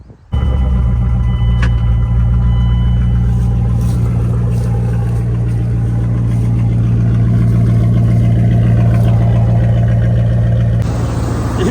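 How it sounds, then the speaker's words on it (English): A beat-up Dodge Durango burnout car cranks and fires up, then settles into a loud, steady, rumbling idle that runs close by for the rest of the stretch, with no talking over it. "Let's see if the burnout beater turns over."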